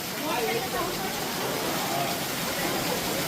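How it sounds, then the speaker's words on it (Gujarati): Heavy rain pours down steadily over a vegetable market in Dhrangadhra, a dense, even hiss of water that stays loud and close from start to finish. "ધાંગધ્રા શાક માર્કેટમાં ફૂલ વરસાદ"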